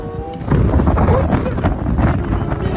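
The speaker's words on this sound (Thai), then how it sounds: "ทุกคนได้ยินเสียงลมมาอยาตกใจนะ ยี่ลมแรงมาก" Strong wind gusting hard outdoors on a campus walk near student dormitories in Dalian, China, a loud continuous roar buffeting the microphone throughout.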